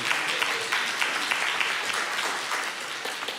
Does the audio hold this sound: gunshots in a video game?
no